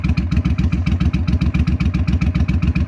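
A carbureted 2001 Suzuki Volusia 800cc motorcycle engine idles close by with a deep, even, rapid thumping beat and a slight mechanical clatter.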